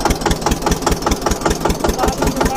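Tractor engine running on a farm in India, driven between fields: a steady, loud rhythmic diesel chug with regular pulses, close by, with no talk over it.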